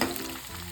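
Green chillies hit hot oil for a Bangalore military-hotel-style donne biryani, giving a sharp, close sizzle that flares at once and then settles into a steady crackle.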